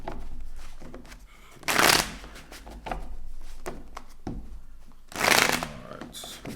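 Tarot cards being shuffled by hand: two loud riffling bursts stand out against softer card handling and rustling, close up, with a voice talking quietly at times.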